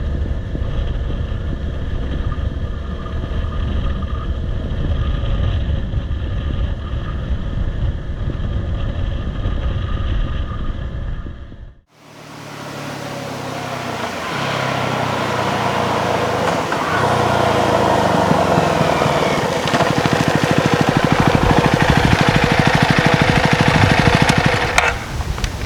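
A CFMOTO 300NK motorcycle rides along at steady speed, its engine drone blended with heavy wind rush, cutting out briefly midway before resuming louder and continuous.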